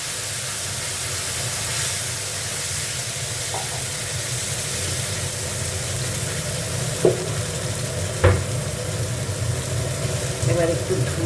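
A spice paste with cumin, bay leaf, cardamom and garam masala fries in hot oil, giving a steady close sizzle with occasional clicks of a stirring spoon against the pan, while a voice talks over it.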